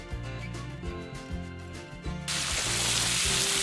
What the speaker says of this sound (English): why don't we take a second to listen to that bacon sizzle